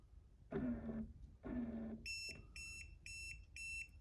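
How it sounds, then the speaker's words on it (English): Two low mechanical whirs from a small motorised roller blind motor, followed by four short, high electronic beeps in an even sequence, signalling a factory reset. "once I hear the 4 beeps and the motor jogs, that's now a full, complete factory reset"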